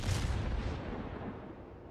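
A torpedo explosion from a World of Warships naval battle, heard as a heavy low rumbling boom that fades steadily over about two seconds with no voices.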